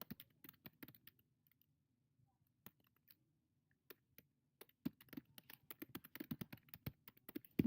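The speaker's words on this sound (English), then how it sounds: "I'm going to type in this" Computer keyboard typing: a few scattered soft key taps, a pause, then a quickening run of crisp clicks toward the end, quiet and close in an otherwise silent room.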